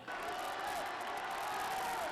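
About a hundred supporters gathered in Paris applaud and cheer former French president Nicolas Sarkozy, a brief, steady wash of clapping and crowd noise at moderate distance.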